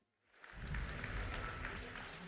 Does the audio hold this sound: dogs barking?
no